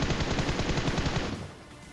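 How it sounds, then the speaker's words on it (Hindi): Rapid automatic gunfire from enemy squads in the PUBG Mobile battle royale game, a loud sustained burst of closely spaced shots that cuts off and trails into quieter ambience near the end. "दो स्क्वाड हमारे ऊपर फायर करे जा रहे"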